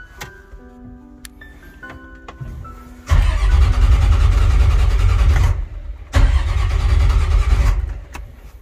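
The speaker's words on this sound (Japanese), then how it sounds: "エンジンかかりません。" Tonal beeps and clicks give way to a boat engine cranking hard twice in long loud bursts, neither catching into a running idle.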